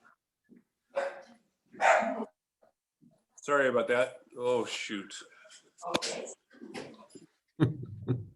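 A dog barks a few sharp times in a home during an online meeting, fairly close, mixed with a person talking.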